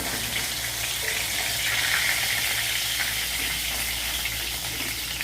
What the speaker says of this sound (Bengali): এই মাছগুলো এবার ভাজা হয়ে গেছে, এখন আমি এগুলো তুলে নেব।